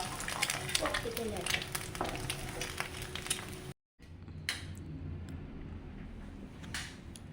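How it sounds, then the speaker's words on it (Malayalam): An egg frying in a pan with pepper and salt, a steady close sizzle broken by a brief cut, then quieter frying with scraping and tapping as it is flipped. "ഇനി മുട്ട മറച്ചിട്ട് കൊടുക്കാം"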